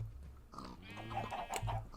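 Pigs grunt and oink in a short, close burst of nasal snorts inside a video game farm pen holding sixteen pigs and sixteen chickens, quiet overall with no speech.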